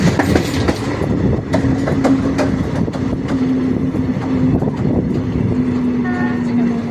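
A passenger train runs on rails while approaching Karjat station, a loud continuous rumble with rhythmic clickety-clack of wheels over rail joints and a faint steady tone, heard close from on board.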